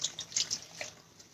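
Water from soaked peppers poured into a cooking pot for tamales, a brief soft splashing trickle that fades out quickly, close and quiet with no talking.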